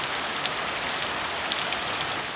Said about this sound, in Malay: tapi hujannya deras